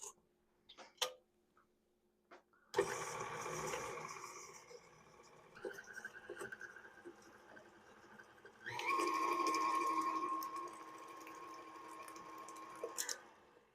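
Carrot cupcake batter being mixed, probably with an electric mixer: a steady mechanical whir runs through most of the clip, a louder stretch toward the end, after a few short knocks at the start.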